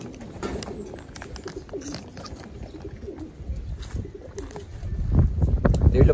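Pigeons coo softly amid low rumbling outdoor background, with a few faint chirps and a growing low noise toward the end; no clear talk.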